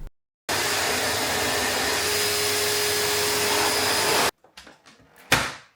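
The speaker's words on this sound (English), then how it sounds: "time to give these carpets a clean with the George Wet and Dry Vac" A George Wet and Dry Vac cleans carpets with a loud, steady motor roar and airflow that runs for about four seconds, then cuts off abruptly and is followed by a few handling knocks and clunks.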